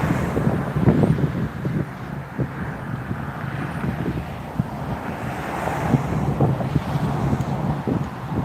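Strong outdoor wind buffets the microphone with a continuous low rumble and gusty swells, loud and unbroken with no voices.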